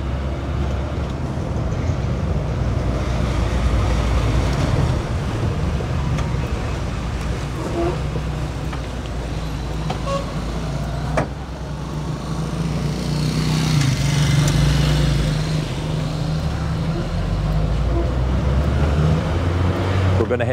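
A car cruising the streets of Champoton, Mexico, heard from inside as a constant low engine and road rumble, swelling slightly midway as if passing other traffic, with no clear talking.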